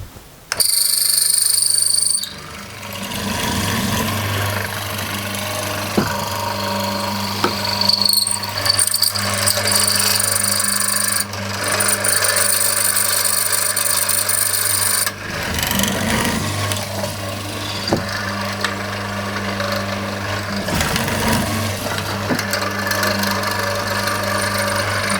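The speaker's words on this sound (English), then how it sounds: "So let's start cutting, and I should be able to get all of these mortises done in this session." Wood mortises being cut by machine in a home workshop, a steady loud mechanical whir running almost continuously with brief dips and pauses, no talking.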